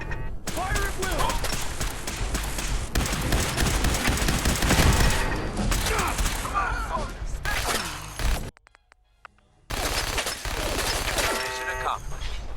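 Loud, dense gunfire rattles through a firefight in Fallout 4, with rapid automatic bursts, impacts and shattering crashes. It drops to near silence briefly before resuming, and voices shout over it.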